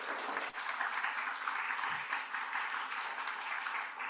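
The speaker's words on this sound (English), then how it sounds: "So please, another round of applause for them." A round of applause rises from the audience for the speakers at a coral reef restoration project meeting. Dense, steady clapping runs throughout at a fairly soft, distant level, with no talking.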